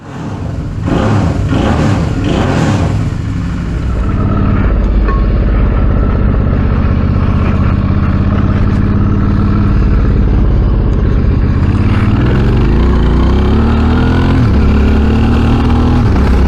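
Motorcycle fitted with new ProTaper clamp-on grips running during a test ride, its engine a loud, steady mid-pitched drone with a brief rising rev near the start and wind-like rumble throughout.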